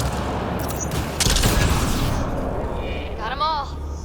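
Turret gunfire in the sci-fi shooter Mass Effect: Andromeda, a loud continuous barrage of rapid shots and blasts filling the clip, with a burst of chirping electronic effects near the end.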